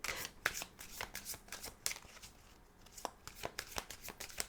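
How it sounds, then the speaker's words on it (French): A deck of oracle cards being shuffled by hand before a card is drawn, producing quick, soft, papery riffling slaps in an irregular run, close and fairly quiet, with no talking. "on va aller tirer une dernière carte avec l'oracle de la lune pour voir un petit peu"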